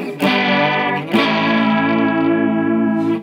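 Circuit-bent Behringer UC100 chorus pedal with depth on full and rate raised, producing a loud, sustained, distorted warbling tone that swells back and forth, with two sharp re-attacks near the start.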